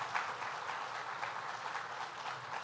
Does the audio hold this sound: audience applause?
yes